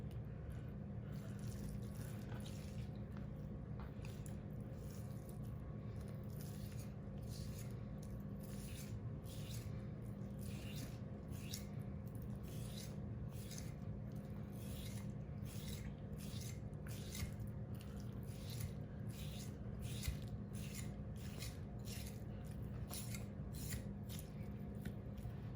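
Knife cutting through fat on a small 11-pound brisket, a steady series of soft, wet scraping and slicing strokes repeated close up over a constant low background hum.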